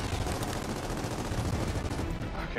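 Sustained suppressing gunfire in the video game Gears of War 4, a dense, continuous rattle of rapid automatic shots filling the whole stretch, loud and unbroken.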